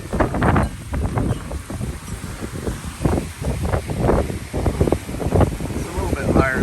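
Strong Hurricane Ida wind at Pensacola Beach, heavy gusts roaring and pummeling the microphone in continuous bursts with surf churning beneath, loud and close throughout, and no clear speech.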